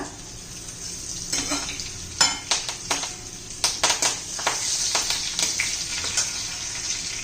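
Curry leaves hit hot oil in a pan for green chicken masala, giving a steady sizzle punctuated by scraping stirs and a few sharp crackles, close and unaccompanied by speech.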